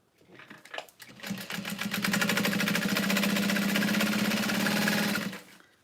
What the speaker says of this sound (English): I'm going to fold it over again and top stitch in a U shape